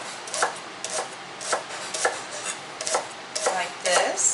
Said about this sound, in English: you're just going to cut it up into 1/4-inch slices